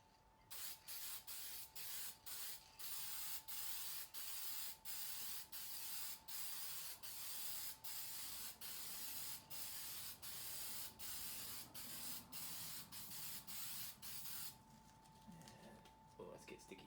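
KW Copper Coat sealant sprayed from an aerosol can, applied during a DIY cracked-block repair on a Willys Jeep Hurricane F-head 134 engine: a long series of sharp, evenly paced hissing bursts, close and loud, ending in a rougher spray.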